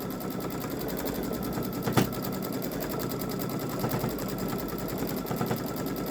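A Baby Lock Solaris Vision sewing machine embroiders an edge-to-edge quilting pattern with fine thread, its needle chattering in a fast, even rhythm, with one sharp click near the start.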